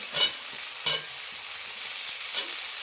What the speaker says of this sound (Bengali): এবার আলুটা একটু সুন্দরভাবে কষিয়ে নেবো